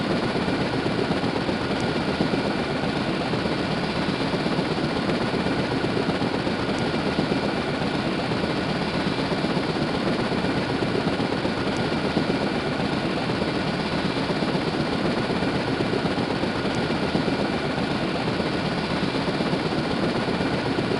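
Military helicopters in the SCS Fleet Command naval warfare game give off a constant, loud rotor-and-engine drone that holds steady throughout with no talk.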